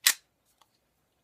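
A Walther PPK BB pistol gives a single sharp, close snap as it misfires, followed by a faint small click a moment later, with nothing else around it.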